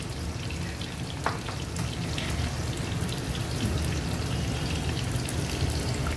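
Onions fry until brown for Nepali chicken pickle, giving a constant close crackling sizzle with scattered pops and an occasional stir, steady throughout with no speech.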